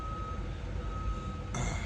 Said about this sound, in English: I wished he'd get backed up because that truck of his beeping.